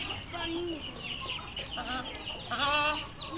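A hen clucks repeatedly while attacking rabbits in a backyard pen, the clucks loud and close in several bursts over a few seconds.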